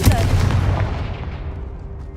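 A Confringo fire-blast spell in Hogwarts Legacy lands as a heavy booming impact, then rumbles and fades away over about two seconds.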